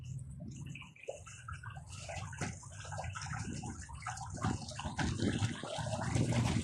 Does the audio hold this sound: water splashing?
yes